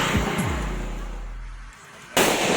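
A firecracker set off for Christmas bursts suddenly near the end, a loud close blast following a quieter stretch with a short rising whistle at the start.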